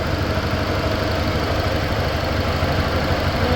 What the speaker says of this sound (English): There's the motor, doing what it's supposed to be doing.